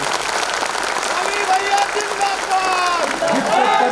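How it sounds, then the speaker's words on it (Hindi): Large audience at a youth wing political workshop breaks into loud applause for a speaker, dense clapping under a raised voice with some crowd noise. "इसके लिए एक बार जोरदार तालियों से अपने रवि भगत जी का आवाज दीजिए"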